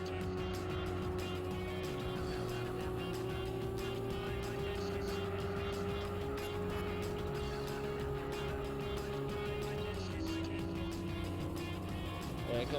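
Nissan Skyline R32 race car in the video game Gran Turismo 4, a steady engine drone holding a sustained tone through the whole stretch, continuous and fairly loud with racing sounds around it.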